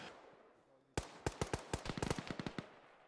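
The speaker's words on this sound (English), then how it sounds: "Explosions today." Explosions in the ShackTac military video game: after a sudden sharp crack, a rapid irregular string of about a dozen popping blasts follows, faint and distant, crackling like firecrackers.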